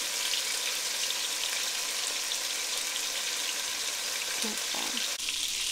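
Beef chunks searing in a hot pan for barbacoa, a dense steady sizzle close by, with a brief clatter near the end, no talking.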